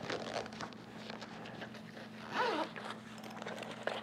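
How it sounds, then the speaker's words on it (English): A zipper is pulled closed on the cover of an ergonomic motorcycle seat cushion, with a brief, close zipping run in the middle that rises over faint rustling handling noise, all quiet. "And then zip it up."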